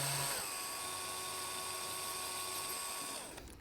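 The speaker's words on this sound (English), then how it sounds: "Let's go ahead and drill them." A small high-pitched rotary drill whirs steadily into tiny cast Lego parts, a thin, close whine holding for a few seconds before spinning down at the end.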